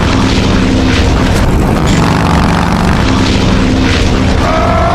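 A propeller airplane engine roars steadily and loudly, close by, with a thick, constant drone and a few booming surges, no voices heard.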